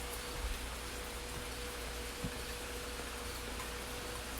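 Steady rain falling outside at night, a dense even hiss of drops with a faint low hum underneath and one or two soft knocks, no one speaking.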